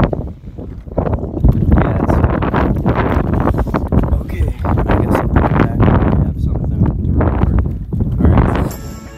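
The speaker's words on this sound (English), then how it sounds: "oh, it's super windy now." Heavy, continuous wind buffeting a microphone at a lakeside campsite in very cold weather, loud rumbling gusts throughout with a brief lull midway.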